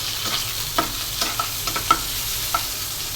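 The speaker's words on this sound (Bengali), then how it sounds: "পেঁয়াজটা ভেজে নিলাম, আর দিয়ে দিলাম ছাদ বাগানের কাঁচামরিচ।" Chopped onion and fresh green chilies fry in a pan with a soft, even sizzle, broken by several light clinks and scrapes of a spatula stirring, close up with no talk.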